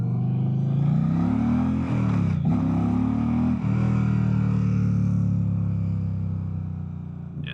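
A 2025 Indian Pursuit Dark Horse motorcycle pulls hard in first gear, its engine a loud, close, continuous drone whose pitch climbs and drops with two quick shifts, heard over steady wind noise.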